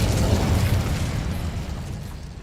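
A fiery burst from the Incendio spell in Hogwarts Legacy, a dense rumbling whoosh of flame that stays loud and steady before easing off slightly, with no talking.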